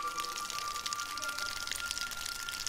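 Steady water pours down like rain in a short horror film, a constant hiss of drops spattering on a surface, with no voices.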